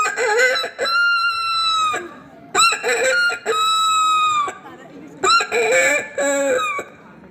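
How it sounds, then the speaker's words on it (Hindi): A rooster crows three times in a row, each loud, drawn-out cock-a-doodle-doo close by, separated by short pauses, with a faint cluck near the end. "सुबह होते ही मुर्गा फट से बांग दिया करता था"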